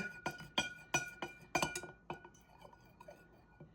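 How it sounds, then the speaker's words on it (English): A spoon stirring cane sugar in a glass, giving a quick series of bright ringing clinks against the sides that slows and fades into softer taps, close and quiet with no talk. "A nice stir."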